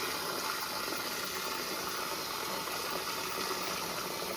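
Water rushes steadily through a water heater being flushed into a bucket, a dense unbroken hiss of even loudness throughout, with no voices.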